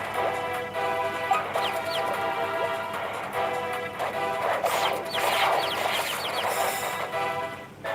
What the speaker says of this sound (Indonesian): Ayam.